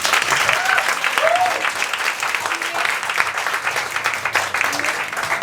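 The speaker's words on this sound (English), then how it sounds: "let's give another round of applause for our students here today" Sustained applause from a school audience at an inauguration ceremony for a drum school outlet, dense steady clapping with a few scattered voices and whistles underneath, loud and continuous throughout.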